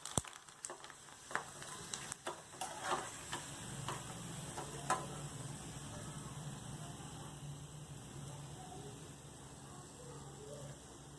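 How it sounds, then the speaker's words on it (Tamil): Rava vadagam frying in hot oil over a low flame: a soft, steady sizzle with scattered light crackles and ticks, fairly faint and with no talking. "வடகத்தை பொரிச்சுக்கலாம்"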